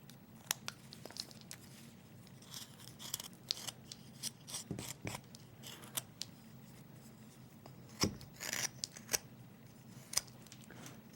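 Knife carving wood to round off a carved Santa figure's stocking, giving faint close-up scrapes and small crisp shaving cuts in irregular bursts over a quiet background, with no talking.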